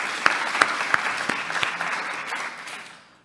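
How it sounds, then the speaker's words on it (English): Conference audience applauding in a hall, a dense wash of many hands with a few sharper claps near the front, holding steady before fading out at the end. "I want to give another round of applause to the group that put this event together"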